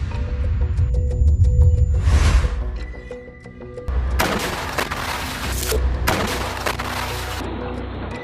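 Gunfire and heavy blasts from fighting in Rafah, Gaza, including anti-tank fire on an Israeli Merkava tank, sound as loud bursts and rapid volleys, with a whooshing launch and sharp cracks close to the microphone.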